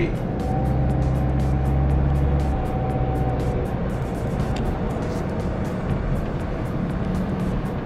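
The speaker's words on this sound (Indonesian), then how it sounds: "Raungan dari mesin diesel 2500 cc." A steady, loud 2.5-litre diesel engine drone from a 2020 Hyundai H1 van accelerating, with a low rumble that rises slightly in pitch, heard from inside the vehicle.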